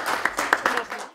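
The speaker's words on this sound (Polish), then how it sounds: "Zasłużone oklaski" Audience applause at a children's poetry recitation contest: a short burst of scattered hand clapping with a few sharper claps, fading out after about a second.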